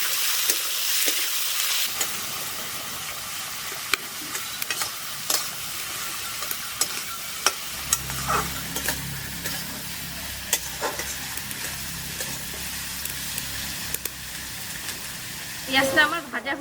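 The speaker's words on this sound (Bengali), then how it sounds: "পেঁয়াজটা আমার ভাজা হয়ে গেছে, পেঁয়াজ থেকে তেল ছেড়ে দিয়েছে।" Onions frying in oil with garlic and a little salt, a steady close sizzle with stirring scrapes throughout, a low rumble building midway and a louder clatter near the end.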